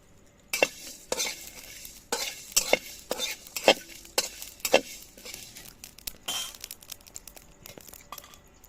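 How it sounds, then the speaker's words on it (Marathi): Onion and coconut dry-roasting in a pan with no oil, heard as a run of sharp scraping and clattering strokes from a spatula against the pan, close and irregular, with quieter gaps between and no voices. "कड्यामध्ये कांदा आणि खोबरं असं टाकलेलं आहे कोरडंच"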